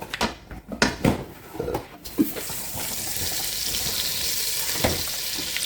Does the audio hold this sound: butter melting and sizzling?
yes